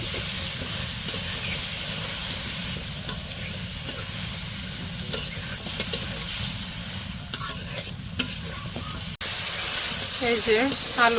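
Potatoes and taro pieces sizzle and hiss in hot spiced oil in a village kitchen, with stirring scrapes throughout and a louder burst of frying near the end; a voice talks intermittently over the cooking.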